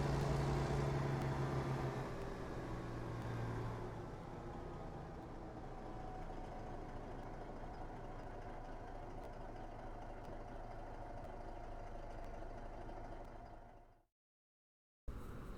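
A Cummins QSK19 truck engine, torque limited and paired with an Allison automatic, runs steadily in American Truck Simulator, a loud low drone that eases after the first seconds and cuts out abruptly near the end.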